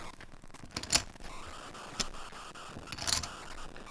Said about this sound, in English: As you're squeezing in, the chips start collapsing in, and then they shuffle in as you come together.